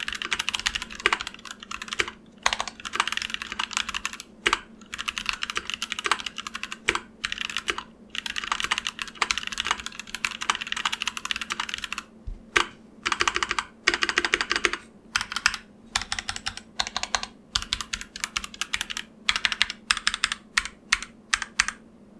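Continuous typing on a quiet wireless keyboard with a soft, cushioned key feel, dense muted keystrokes in quick bursts with brief pauses, close and alone.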